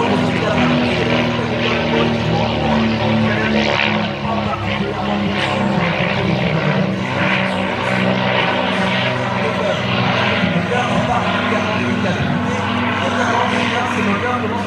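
Twin-engine airplane flying aerobatics, a continuous loud propeller-engine drone that swells and wavers throughout, with a voice talking over it.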